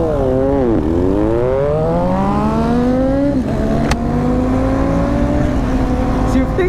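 A KTM Duke 390 motorcycle engine winds up hard in a drag race, its loud rising whine climbing steadily and dropping sharply at each gear shift before pulling up again.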